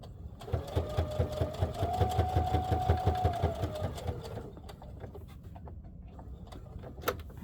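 Sewing machine stitching fabric along the zipper edge of a project bag, a steady close rhythmic needle chatter with a whining motor tone that runs for about four seconds, then slows and stops for a pivot with light handling noises.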